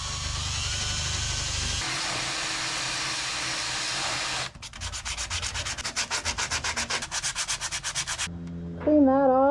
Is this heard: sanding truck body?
yes